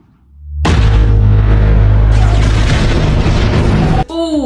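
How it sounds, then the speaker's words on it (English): Seismic charge explosion sound effect from Star Wars Episode II: a sudden, very loud deep boom that swells into a long roaring rumble, with a ringing, warbling tail at the end. "That goes up there with in episode 2 where they're doing the seismic charges."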